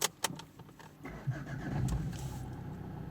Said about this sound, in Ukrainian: Запускаємо, машинка запускається